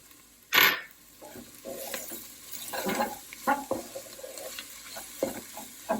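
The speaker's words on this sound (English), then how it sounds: "just stir it all up and saute for another minute or 2" Spices and cardamom sautéed for moong dal, a sharp clink of a spoon, then scraping and stirring strokes in the pot over a soft, continuous sizzle.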